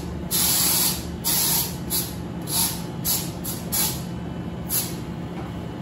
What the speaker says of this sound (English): Let's use the disinfectant spray for the